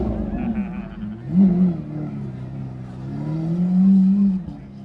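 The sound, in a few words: loud car engine revving at a bike rally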